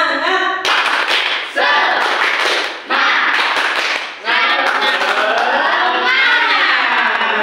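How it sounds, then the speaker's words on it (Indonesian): A group performs the rhythmic 'tepuk semangat' spirit clap, with bursts of patterned claps and loud shouted chanting in several sections, close and energetic. "kita tepuk semangat dulu biar tidak ngantuk."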